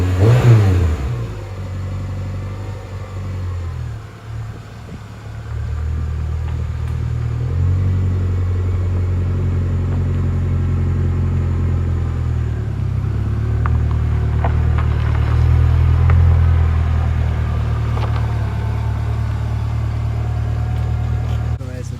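Renault Clio 172 engine idling steadily for a long stretch, a close, even mid-pitched hum with slight rises in revs, running alone without talk.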